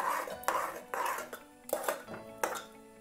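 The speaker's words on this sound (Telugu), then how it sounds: "స్టవ్ సిమ్లో పెట్టుకొని దీన్ని ఉండలు కట్టకుండా ఇలా కలుపుకోవాలి." A utensil stirring dough in a pot on a low stove flame, scraping and knocking against the metal in regular strokes about every half second, close and fairly quiet.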